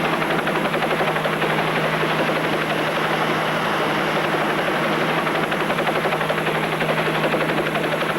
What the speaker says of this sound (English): the chopper comes in low